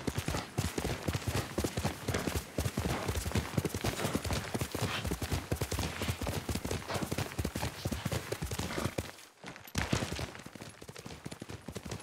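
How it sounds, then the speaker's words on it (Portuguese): Horse hooves clip-clop steadily in the video game Ghost of Tsushima, a fast continuous galloping rhythm that runs loud and close through most of the stretch, breaking off briefly near the end before resuming. "É cavalo."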